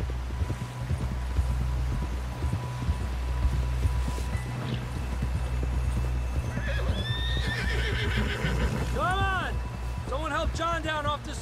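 Rapid hoofbeats of a galloping horse in Red Dead Redemption 2 under a constant low rumble, ending with loud whinnies and neighing near the end.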